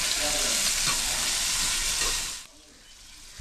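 Onions frying in a pan, a loud dense hissing sizzle that fills the first two and a half seconds, then drops abruptly to a faint low background.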